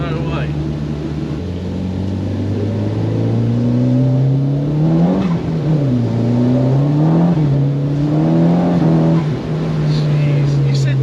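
Audi 1.8T turbocharged engine swapped into a Renault Clio 172, built for about 340 bhp, pulling hard under acceleration with rising and falling engine tones, loud and close from inside the car.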